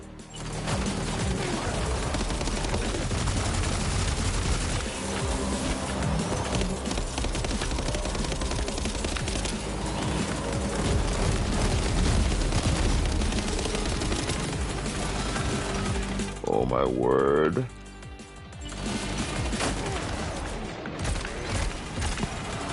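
Shotgun fire in the video game Death Stranding 2, with dense bursts of gunfire and crashing mechanisms blending into busy game sound, and a brief spoken exclamation.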